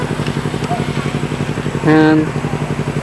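Rusi motorcycle engine idling nearby with a steady, pulsing putter, running continuously while someone talks over it.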